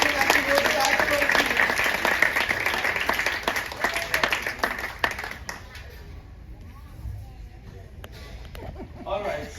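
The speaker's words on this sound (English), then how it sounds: "A big round of applause for Jocelyn as she goes back to her" A cruise ship show audience on the Carnival Vista claps loudly and densely for a returning volunteer, the applause fading after about five seconds into quieter room sound and a voice.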